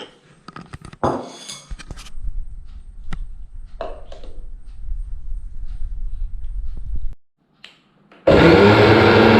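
An electric mixer whirs through homemade mayonnaise of oil and egg, preceded by a few clinks. It runs as a steady grinding drone, pauses briefly, then restarts loud and close, with no talking.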